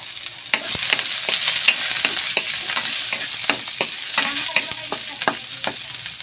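Onion and aromatics sauté in a pan for ginataang sitaw, giving a steady close sizzle broken by repeated sharp scraping stirs in a loose rhythm, with no talking.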